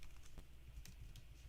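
A few faint, quick keystrokes on a computer keyboard as someone types a web address, spaced clicks against a quiet background.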